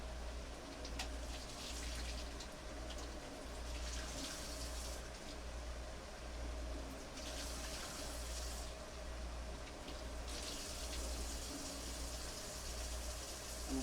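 Tap water runs quietly over cherry tomatoes in a kitchen, a faint, continuous splashing under a low hum, with the flow swelling briefly a few times.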